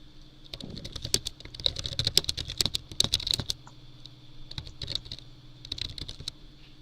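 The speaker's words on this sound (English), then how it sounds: "Those are some powerful typing strokes." Rapid, uneven keyboard typing with crisp clicks, a dense burst early on and then lighter scattered keystrokes, close by with no talking.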